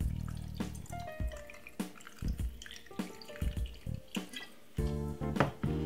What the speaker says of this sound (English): Pour some water inside of it like this.